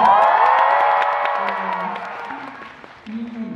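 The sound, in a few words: audience cheering at film festival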